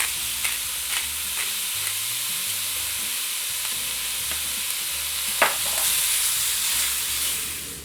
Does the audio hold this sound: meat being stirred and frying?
yes